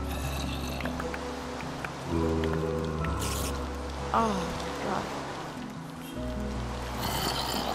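Steady rain falls in Minecraft, PlayStation 4 Edition, a continuous hiss running through the whole stretch alongside faint game sounds and a brief spoken exclamation.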